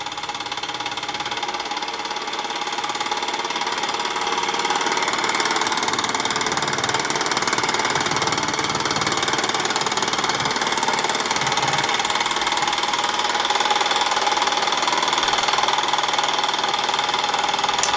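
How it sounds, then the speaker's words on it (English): Mr Power Chinese model steam engine running with a steady, dense mechanical chuff and hiss that holds throughout, swelling slightly louder after the first few seconds, close up with no talk. "So, Mr. Power, Chinese model steam engine"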